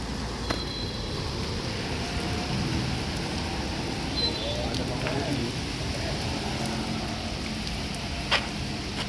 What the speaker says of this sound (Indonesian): Cuaca kondisi lagi hujan.